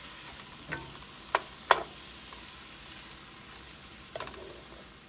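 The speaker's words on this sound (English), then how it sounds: "Just let that saute for about like 3 to 4 minutes on a medium heat." Garlic, mushrooms and a stick of butter sautéing over medium heat, a quiet steady sizzle broken by several scraping stirs and clinks of a utensil against the pan, close and alone.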